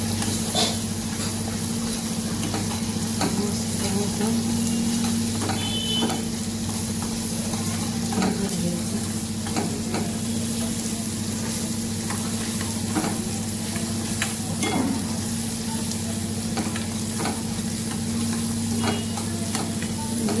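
Tomatoes frying in a pan for a moong dal and spinach curry, a steady close sizzle with hiss and occasional stirring scrapes, no talking.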